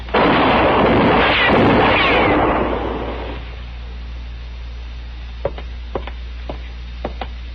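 Gunshots in a Gunsmoke radio drama western showdown: a loud, reverberant burst of gunfire fills the first three seconds, then fades into quieter single cracks, several sharp shots spaced apart toward the end.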